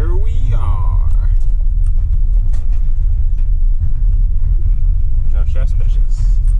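A car drives along the road with a constant loud low rumble of engine and tires, steady throughout, while a person talks briefly near the start over the road noise.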